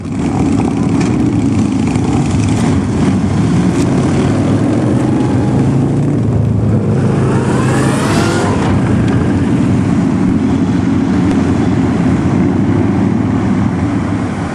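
A group of about forty motorcycles on a charity benefit ride in East Tennessee roars past, a loud continuous blend of engines with one swelling, passing drone, no voices.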